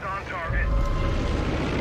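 Aircraft fly overhead in Far Cry 5, a steady droning engine rumble with a whining harmonic tone early on, heard close under someone talking.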